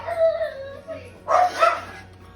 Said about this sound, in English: Yes, my dog is hungry.